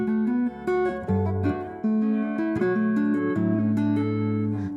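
Electric guitar riff built around a main melody line for an underwater-feeling song, played as clean sustained notes over a lower bass line in a steady, moving phrase, close and alone with no talking.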